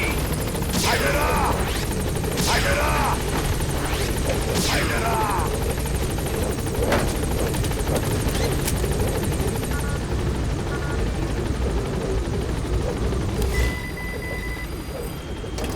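The B-Quad support helicopter in Metal Gear Solid V: The Phantom Pain comes in to a landing zone with a loud, steady rotor roar throughout. Radio voices talk over it and short electronic chirps sound now and then.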